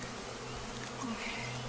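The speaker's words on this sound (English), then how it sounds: "there's a lot of bees" A swarm of honey bees drones steadily at a hive, a continuous close buzz with no talking.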